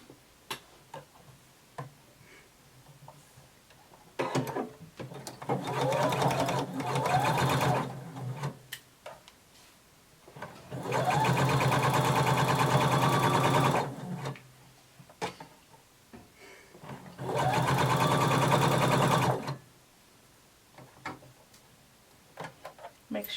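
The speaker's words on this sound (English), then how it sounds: "now we're going to sew 5/8 of an inch all the way around" Domestic sewing machine stitching a 5/8 inch seam around a pinned bodice, running in three sustained bursts of steady rapid stitching separated by quieter pauses with small clicks and handling.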